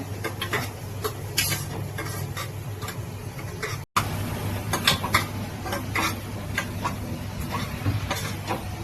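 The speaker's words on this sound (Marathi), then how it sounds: "चांगलं हलवून घ्यायचंय" A spoon scrapes and stirs mutton masala in a pan, giving continuous close rhythmic scraping and clinking over a low steady hum, with a brief cut partway through.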